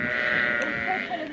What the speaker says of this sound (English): these sheep are following us at quite a speed